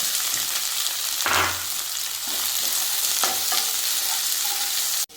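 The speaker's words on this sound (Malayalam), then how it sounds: "മീഡിയം ഫ്ലെയിമിൽ വെച്ച് ഒന്ന് ചൂടാക്കി എടുത്താൽ മതി കരിഞ്ഞു പോകരുത് ഇതിലേക്ക് ഒരു ഒന്നര സവാള ചേർത്ത് കൊടുക്കുക" Onions fry in a pan over a medium flame, a broad steady sizzle with a few scraping stirs and a sharp clatter near the end, close by and without speech.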